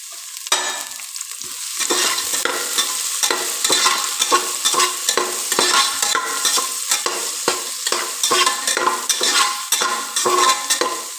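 Onions sizzle in a pan for drumstick leaf dal, a steady, close frying hiss with frequent stirring scrapes and clinks throughout, no voices.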